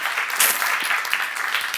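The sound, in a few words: applause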